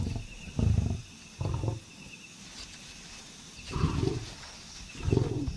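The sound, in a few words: male lions at a kill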